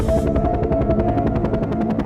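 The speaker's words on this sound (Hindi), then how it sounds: "तभी हेलीकॉप्टर की आवाज आने लगी।" Cartoon helicopter sound effect for an arriving chopper: a loud, fast, even chop of rotor beats running steadily throughout.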